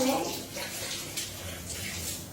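Water splashes and runs steadily as a mother bathes a small child in a bathtub, close and continuous with soft movement throughout.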